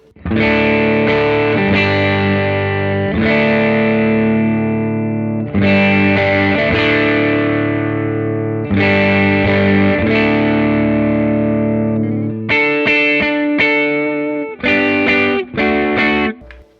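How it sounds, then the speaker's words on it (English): Electric guitar through a Light Speed overdrive pedal straight into an amp: loud, gritty sustained chords ringing out in long strums, then a run of short choppy stabs near the end, with no talking. "Let's hear the light speed, kind of what that sounds like."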